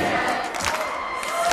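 A concert crowd at an outdoor retro music festival applauds and cheers, a dense steady roar of clapping and shouting that stays loud throughout.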